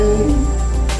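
A voice imitates an aeroplane flying overhead with a sustained, nasal humming "nnn" sound, like the letter N, steady for about a second with a slight swell partway through.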